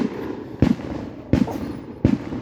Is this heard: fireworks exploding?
yes